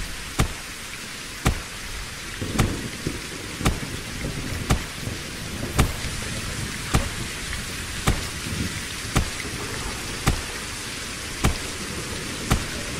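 Steady rain and thunder in the survival video game Reign of Kings: a constant dense hiss of rainfall with sharp, regularly spaced cracks roughly once a second, loud and alone with no voices.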